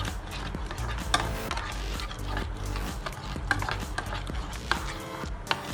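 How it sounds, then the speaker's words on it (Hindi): Yogurt is mixed with chaat masala and black salt in a bowl, a steady wet stirring with soft regular taps of the spoon against the rim, close and moderately loud. "उसके अंदर हम दही डाल लेंगे और इसमें हम थोड़ा सा ये चाट मसाला और काला नमक डाल के इसको अच्छी तरह मिक्स कर लेंगे।"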